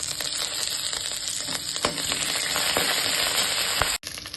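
Curry leaves hit hot oil with dal and slit green chillies for a cabbage curry, giving a loud, close, continuous crackling sizzle with sharp pops that cuts off abruptly near the end.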